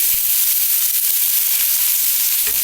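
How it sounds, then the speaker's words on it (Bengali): Chopped onions sauté in a hot pan for a Bengali-style burger, giving a steady, loud hiss and sizzle throughout with a few faint stirring clicks and no talk. "প্রথমে পেঁয়াজ কষিয়ে"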